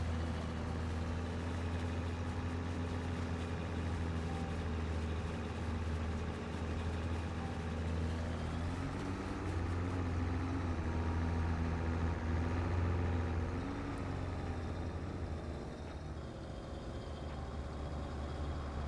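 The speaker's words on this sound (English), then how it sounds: "At least this tractor's not having any issues pulling this" A tractor in Farming Simulator 22 hauls a trailer, its engine holding a steady, deep, droning hum with a constant low rumble that swells slightly before easing off, and no voices over it.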